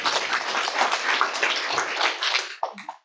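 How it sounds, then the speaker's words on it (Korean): Audience applause after a lecture on relocation loans and interest during construction, a steady dense wash of clapping for about two and a half seconds that then breaks off into a few scattered claps. "다시 한번 박사님께 큰 박수 부탁드립니다"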